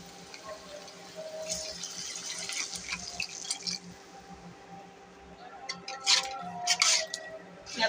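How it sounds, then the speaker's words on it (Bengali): Water is poured into a pan of frying bird eggs with ginger and garlic for an egg bhuna, giving faint liquid trickling and sloshing that turns into louder splashy bursts near the end. No one speaks. "এখন পরিমাণ মতো একটু পানি দেব।"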